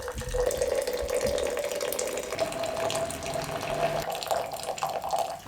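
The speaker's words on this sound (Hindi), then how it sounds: "इसके अंदर यहाँ पे शिफ्ट कर देंगे उबलता हुआ पानी।" Boiling water is poured from a pot into a jug, a steady gurgling stream with a rising pitch as the vessel fills, continuous and close.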